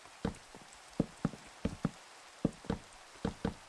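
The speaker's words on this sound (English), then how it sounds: "Alone in the rain." Rain patters in Minecraft as soft, irregular droplet taps, a dozen or so faint pings spaced unevenly over quiet background.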